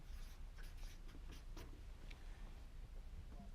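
Pen scratching on paper while noting down credit cards, a short run of brisk strokes over a steady background hiss with no talking.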